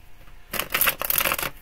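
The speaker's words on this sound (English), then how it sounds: "Five shuffles." Tarot cards are riffled in one quick, crisp burst of rapid flicking that lasts about a second, close and loud against a quiet room, with no talking.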